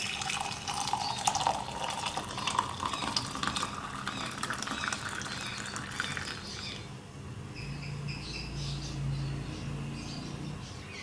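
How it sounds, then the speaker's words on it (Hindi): Almond milk pouring into a serving glass, a steady liquid stream with dripping and filling sounds that shift in tone partway through, close and moderately loud with no talking. "सर्विंग ग्लास में डालेंगे दूध को।"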